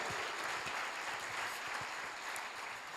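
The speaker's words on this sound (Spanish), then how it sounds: "Vamos a aplaudirle hasta aquí a esta palabra" A church congregation applauds together in a dense, steady roar of clapping that holds at an even level throughout, with faint voices mixed in beneath it.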